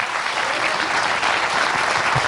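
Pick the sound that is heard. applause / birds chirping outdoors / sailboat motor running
applause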